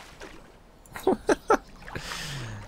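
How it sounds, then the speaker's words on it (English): A player swims and drinks water in the video game DayZ. Three short, distinct splashing gulps sound close together in the middle of a quiet watery background. "We're swimming and we're drinking the water at the same time."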